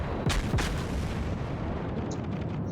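Naval guns boom in a World of Warships battle, with a USS New Mexico battleship's secondaries and anti-aircraft guns firing. Two heavy close blasts come early over a dense rumbling battle din, and fainter distant shots follow.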